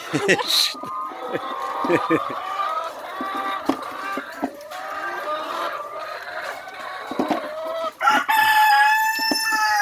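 Chickens cluck and squawk close by, with a rooster crowing near the end, while people talk over the farmyard noise.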